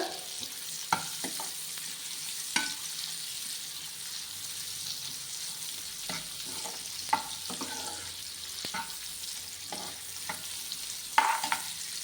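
Dry fruits being fried and stirred in a pan for sheer khurma, a steady soft sizzle with scattered utensil scrapes and taps throughout, heard alone without talk.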